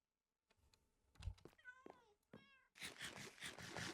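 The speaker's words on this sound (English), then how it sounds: "And we've also got cats." Cat meowing inside a video game, several rising and falling meows close and clear, followed by a louder dense burst of clattering game sound.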